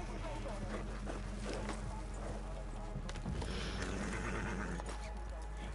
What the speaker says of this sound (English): Oh, my horse is right there.